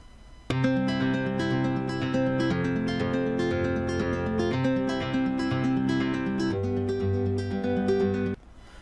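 A synthetic-sounding guitar, converted from audio, plays a steady flowing three-finger-picking arpeggio pattern over changing chords for about eight seconds, clear and close with no talking.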